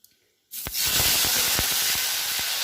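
Chopped tomato pieces hit hot tempered oil, and a sudden loud sizzle bursts out and holds as a dense, steady hiss dotted with sharp pops, close by.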